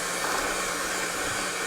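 Steady broadband whirring of an electric hand mixer blending pumpkin puree for pumpkin bread, loud and continuous, with no voices.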